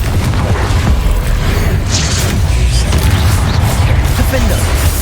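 Confringo fire spell blasts from Hogwarts Legacy combat, a loud dense barrage of booming, crackling impacts that runs steadily without pause, with a voice calling out spells over the din.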